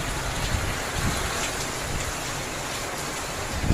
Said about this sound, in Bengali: এই যে বৃষ্টি পড়ছে, তার সাথে সাথে ঝোড়ো হাওয়া বইছে।